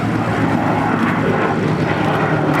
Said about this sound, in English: Powered by two Rolls-Royce Merlin engines, but as you'll hear, they sound very different to the Rolls-Royce Merlin engine up front in the Spitfire.